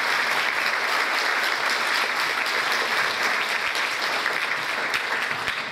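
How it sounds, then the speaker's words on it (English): Steady audience applause fills a high school spring band concert hall, dense and continuous for several seconds at an even level, with no talk over it. "Give a round of applause to everyone."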